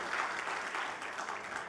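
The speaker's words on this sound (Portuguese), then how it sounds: "Vamos aplaudi-lo, vamos aplaudi-lo." A church congregation applauds during an evening service, a dense steady wash of clapping from many hands at moderate distance, continuous through the moment with no clear voices.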